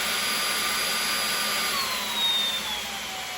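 A Samsung Jet 90 cordless stick vacuum runs at steady power with a loud, even whine that shifts in pitch as suction modes change, heard close with no talking.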